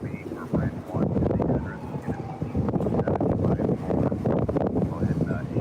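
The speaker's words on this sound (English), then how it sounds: "It still sounds pretty windy though," Strong wind gusting outdoors during major Los Angeles wildfires, a steady loud buffeting roar with rumbling microphone wind noise throughout.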